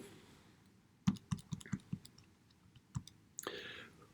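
Calculator or keyboard keys are pressed while entering an equation: a quick run of about five close, crisp clicks, a pause, then one more click and a brief rustle, faint and alone.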